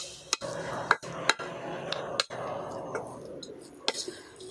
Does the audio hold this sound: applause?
no